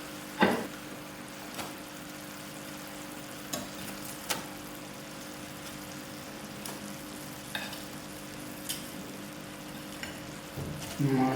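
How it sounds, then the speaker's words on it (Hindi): Chicken frying in a pan with a half spoon of oregano for a honey garlic dish, a soft steady sizzle with occasional clinks and stirring scrapes, close and fairly quiet, no talking. "उसके बाद हम इसमें चिकन डाल देंगे।"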